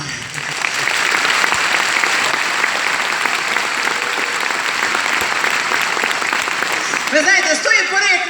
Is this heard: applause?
yes